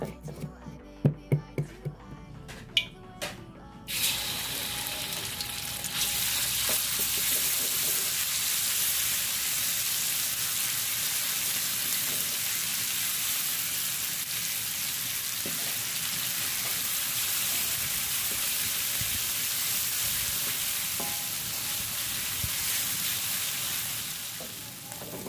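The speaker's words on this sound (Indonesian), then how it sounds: "Lalu kita tumis bumbunya." A ground paste of shallot, garlic, kencur and toasted candlenut hits hot oil after a few clattering stirs, then fries with a steady, loud sizzle that continues throughout.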